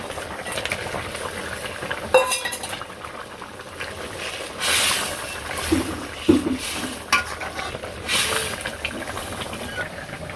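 Fish dropped into a boiling potato curry in a village kitchen pot, with bubbling, hissing steam, clinking utensil knocks and stirring scrapes rising and falling, close by.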